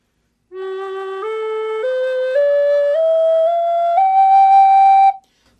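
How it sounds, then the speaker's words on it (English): A wooden flute plays a medicine man scale, a series of breathy pure notes climbing step by step, evenly spaced and close, with nothing else heard. "your basic medicine man scale sounds like this."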